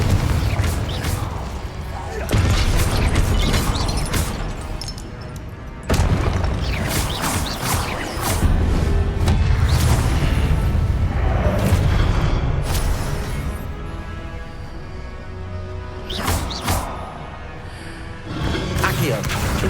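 Confringo spell blasts in Hogwarts Legacy, a run of loud booming explosions and crackling magic impacts layered with game music and effects, with brief quieter gaps between bursts.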